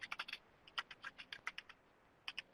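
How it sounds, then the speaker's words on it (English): Brisk typing on keyboards, a cluster of quick key clicks, a short pause, then more tapping in bursts with a couple of final strokes. "We do hear people typing."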